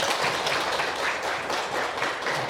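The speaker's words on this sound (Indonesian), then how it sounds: "tepuk tangan untuk Mas" A classroom group applauding during a lesson on the meaning of marriage, a dense, even patter of many hands clapping at once, fairly loud and steady throughout.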